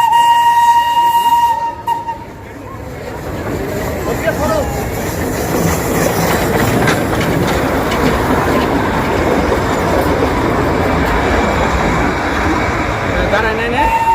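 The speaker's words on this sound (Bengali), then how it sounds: "ট্রেন আইসা পড়ছে।" A train arrives near Batasia Loop in Darjeeling, opening with a sustained whistle, then a loud, steady rumble and rattle of wagons rolling in close by for over ten seconds.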